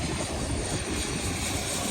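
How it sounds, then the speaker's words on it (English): A propeller airplane arriving over Maho Beach on St. Maarten, its engine a loud, steady, broadband roar that fills the whole moment without a break, with no talking. "Oh look, we already have here's a plane, and it's a prop."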